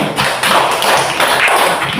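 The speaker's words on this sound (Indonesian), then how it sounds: "Baik, tepuk tangan dulu." A school class claps hands together in unison, a loud, close burst of rhythmic slaps repeating in quick groups over two seconds.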